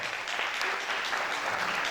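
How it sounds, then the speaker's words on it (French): An audience applauds a dancer at a regional beauty pageant show, a dense, continuous wash of clapping from a crowd, moderately loud and steady from start to finish with no one speaking. "Vous pouvez l'applaudir quand même, il a du courage."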